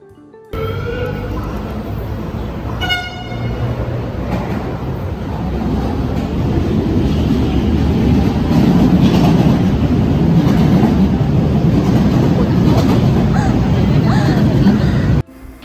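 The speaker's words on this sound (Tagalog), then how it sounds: "Nandito na po kami sa LRT1 at hinihintay na lang po namin yung train." An LRT1 light-rail train pulls into a station platform with a loud, steady rumble that builds and holds, rail clatter and a brief tonal signal near the start, and voices faintly in the background.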